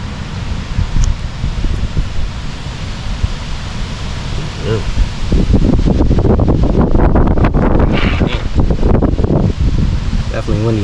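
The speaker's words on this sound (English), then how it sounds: "Definitely windy out there today." Strong wind gusts buffet an outdoor microphone while a Dodge Hellcat diff brace is being installed, a loud, steady roar that swells louder partway through with rustling bursts.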